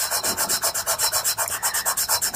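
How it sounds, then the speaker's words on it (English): A fingertip rubs STABILO coloured pencil into paper in quick, steady back-and-forth strokes, a close, dry rasping rhythm of about eight strokes per second, heard alone. "if I use my blue finger to rub the yellow in, it's going to be green"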